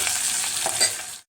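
A tempering of spices hits hot oil over a sprouted lentil curry, giving a loud, steady sizzle and frying crackle, close up, for a little over a second before stopping abruptly.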